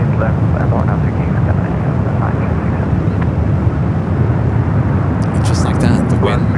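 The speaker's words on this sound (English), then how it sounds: "SES lined up at 28 left, heading back to Copenhagen in this A350-900." An Airbus A350-900 takes off from runway 28 left at San Francisco airport, a loud, steady broadband jet roar filling the whole stretch with no pauses.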